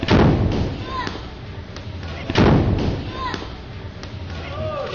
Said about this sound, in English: That's the KAL cannon.